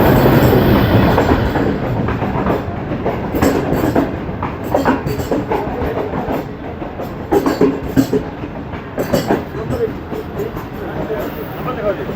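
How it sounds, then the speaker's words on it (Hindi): The Tezgam 8 Down passenger train at Chaklala railway station in Pakistan rumbles and clatters loudly nearby. Rhythmic wheel clicks and metallic squeals build over twelve seconds, with voices in the background. "अभी हम अपनी ट्रेन में सवार होते हैं"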